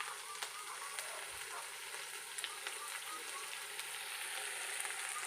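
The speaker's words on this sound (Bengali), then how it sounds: "এই বড় বড় করে আলু কেটে নিচ্ছি, এই যে ভাজা করে রাখছি" Large cut potato pieces fry in hot oil, giving a steady, close sizzle that crackles evenly for several seconds, with no voices.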